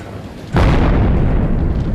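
A sudden loud explosion at an electrical substation flooded by salt water during Hurricane Sandy in New York erupts, followed by a sustained roaring rumble that keeps going.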